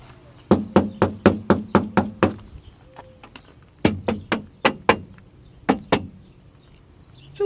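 Knuckles rap on the door panel of a 1989 Jeep Cherokee before sound deadening, giving hollow, tinny knocks: a fast run of about seven, a pause, five more, then a few scattered raps.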